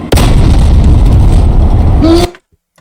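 A single heavy tank cannon blast in War Thunder booms loudly, followed by a rumbling roar that cuts off abruptly into silence.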